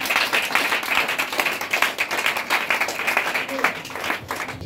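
A church congregation at a French-language worship service claps and cheers in sustained, dense applause, with voices mixed into the noise throughout.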